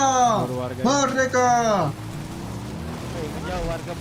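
Steady rain hiss falls in a GTA V roleplay game world, a constant wash of noise running under loud, overlapping voices.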